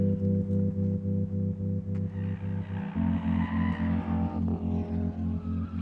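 A BMW M2 engine drives with a pulsing, rhythmic drone that steps up in pitch partway through as it accelerates, joined by a brief tire squeal, loud and close.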